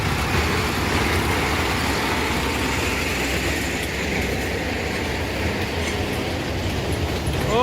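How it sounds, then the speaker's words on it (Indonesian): A sugarcane train locomotive rolls past a level crossing on the north-coast road at dusk, giving a steady, loud, continuous rumble and rattle of wheels and wagons close by. "Tadi lokomotif nomor 3 sudah lewat."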